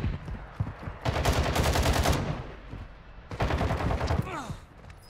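Two long bursts of rapid machine gun fire from Call of Duty: Modern Warfare II, loud and close, separated by a short lull, with faint voices underneath.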